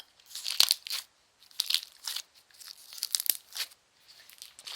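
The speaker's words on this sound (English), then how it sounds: "Now it is really good at crunching." Crunchy slime is squeezed close to the microphone in a series of short crackling, crinkling bursts, each lasting under a second, separated by brief silences.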